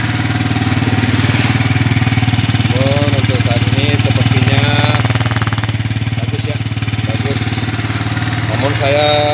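Yamaha Vixion motorcycle engine idling steadily after its cylinder was bored, close and loud with a constant low throb, while someone talks intermittently over it.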